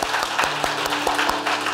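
A church congregation applauds a new worship leader with lively, close clapping that has sharp individual claps standing out, lasting under two seconds.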